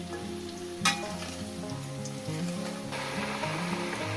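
Potatoes fry in hot oil in a pan for a rohu fish curry, giving a steady close sizzle with one sharp clink near the start and a slight swell in the frying noise later.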